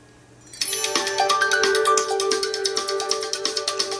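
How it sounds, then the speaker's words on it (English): Music from MP3 files plays through an Altec Lansing Baby Boom portable Bluetooth speaker. It starts suddenly after a quiet moment and carries a bright, bell-like melody with a steady pulsing beat, loud and close. "Let's see if we can play a little music here."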